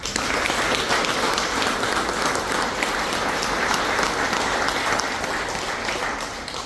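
A crowd at a retirement party for a company executive breaks into sustained applause, dense steady clapping filling the room throughout, loud and continuous with no talk over it.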